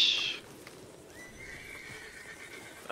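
Horse in the video game Red Dead giving a short, loud, high whinny at the start, then a quieter drawn-out tone and faint background noise.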